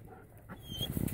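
A German Shepherd dog pants briefly up close, with a faint whimpering whine in the short burst of breathy huffs.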